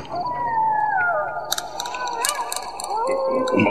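A dog howls in a long, wavering, rising and falling cry inside a dark horror radio drama, with a second higher howl overlapping, backed by faint eerie sound effects.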